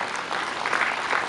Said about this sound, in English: Please let us give him a hand clap.